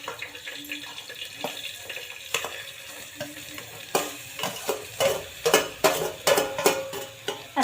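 Grated beetroot with cardamom and nutmeg being stirred in a pressure cooker, a spoon scraping and knocking against the metal in a quickening rhythm of sharp strokes over a soft sizzle.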